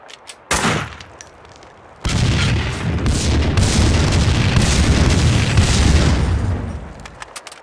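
In Max Payne 2, red containers of explosives blow up: a sharp blast, then a second loud explosion that swells into a long, heavy roar of fire and debris before dying away.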